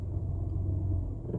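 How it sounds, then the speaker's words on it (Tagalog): A car idling in drive with the brake held gives off a steady low rumble, its shaking engine close and continuous, heard alone. "So kumilig at namatay yung makina"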